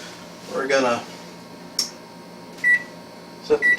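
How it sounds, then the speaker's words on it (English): Electronic beeps from a kitchen oven timer being set while a tater tot casserole bakes: a faint tone, then a short chirp, then two pairs of clear beeps, close by in a quiet room. "set the timer for 40 minutes"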